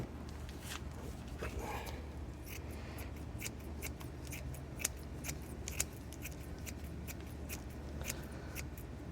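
Scissors shred fiberglass with quick, crisp snips, close and fairly quiet, in an irregular run that becomes denser and sharper toward the end over a low steady hum.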